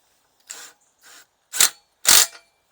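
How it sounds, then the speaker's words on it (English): Impact gun tightening a nut onto a palisade fence bolt outdoors, four short sharp rattling bursts separated by brief pauses, the last two louder, close by and alone. "Impact gun."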